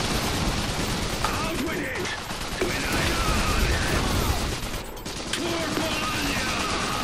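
Gunfire crackles in the real-time strategy game Iron Harvest, a dense, continuous volley of overlapping shots and mechanical clatter that fills the clip, with a brief dip near the fifth second.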